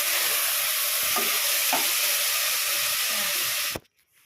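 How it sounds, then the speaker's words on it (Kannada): Tomatoes frying in a pan for mutton biryani: a loud, continuous hissing sizzle with a few stirring scrapes, then it cuts off abruptly near the end. "ಟೊಮೆಟೊ ಫ್ರೈ ಮಾಡ್ಕೊತಾ ಇದ್ದೀನಿ."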